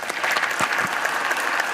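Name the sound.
applause in the United States Senate chamber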